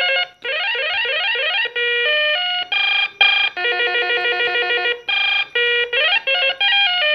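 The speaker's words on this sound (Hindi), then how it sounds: "तो ये देखिए सारे रिंगटोन है" A series of electronic ringtones from a Beetel M59 corded landline phone played one after another, bright warbling beeps and melodic trills with short gaps between them.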